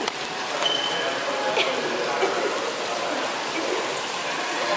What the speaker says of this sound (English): Look at the water. Yes, I'm about to show y'all the waterfall.